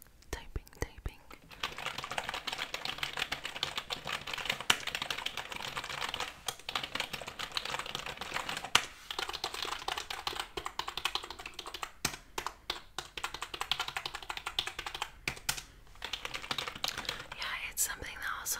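Dense, rapid clicking of a computer keyboard being typed on up close, continuous with brief pauses, while a soft whispering voice murmurs quietly underneath.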